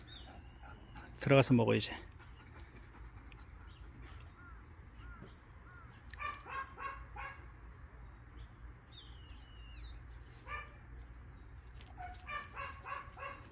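A dog barks in short bursts outdoors amid crow caws and other animal calls, and a person speaks briefly partway through.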